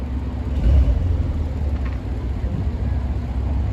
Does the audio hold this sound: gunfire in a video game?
no